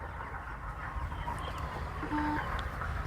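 A sick chicken clucking softly nearby, a few short low calls over a steady background hum.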